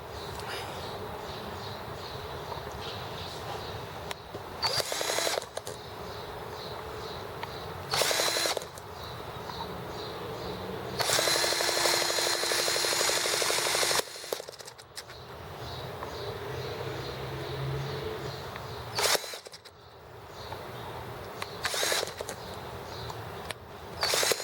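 A tiny EM2 model engine, its fuel needle just adjusted, buzzes in short intermittent bursts, then surges into a longer, louder high-pitched run before sputtering back to uneven bursts.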